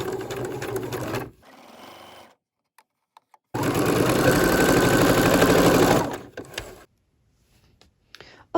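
A sewing machine joins patchwork squares of scrap fabric, running in two loud continuous bursts separated by a quiet pause, with a softer stretch of motor hum and a few small clicks around them.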